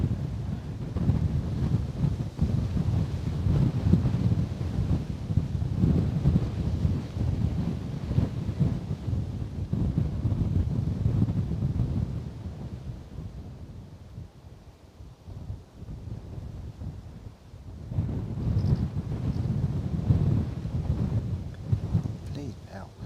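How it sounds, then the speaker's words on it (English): Steady wind blowing at Bristol Airport, a continuous low rumbling roar buffeting the microphone, easing briefly in the middle before gusting back up. "Wind."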